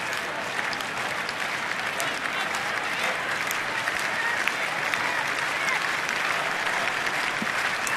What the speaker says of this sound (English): Nats crowd clapping for the third out.